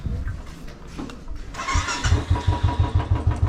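A Royal Enfield Bullet 350 motorcycle engine sputters and catches while being parked, then idles close by with a steady, rhythmic low thumping.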